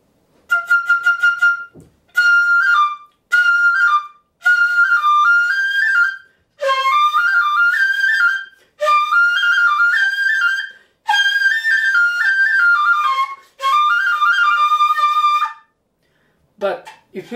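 Loud shinobue, a Japanese bamboo flute, played in regular position without a microphone: bright piercing phrases of sustained and sliding notes with short gaps between, close and alone.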